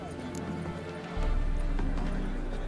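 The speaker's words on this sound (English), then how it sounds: "My coin's on the Black Stallion, Nemrod, purest Nilfgaardian stock." Horse hooves clip-clop at a steady walking rhythm in The Witcher video game, near and moderately loud, with a character's voice talking over them.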